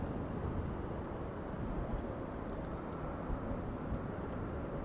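Embraer Phenom 300 business jet passing overhead on arrival at Amsterdam Schiphol Airport on a windy day, heard as a steady, moderately loud broadband roar that holds through the whole stretch, with no talk.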